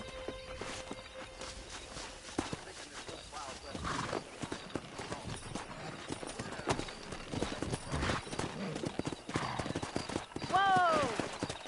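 Horses in the Red Dead Redemption video game, with steady galloping hooves and a neigh near the end, under ongoing speech and game sounds.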